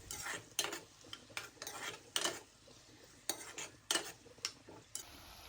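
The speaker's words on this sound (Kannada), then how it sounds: "ಈರುಳ್ಳಿನ ಲೋ ಫ್ಲೇಮ್ನಲ್ಲಿ ಫ್ರೈ ಮಾಡ್ಕೋಬೇಕು." Onions frying on a low flame in a pan, with a utensil stirring and scraping through them in repeated bursts over a soft background sizzle.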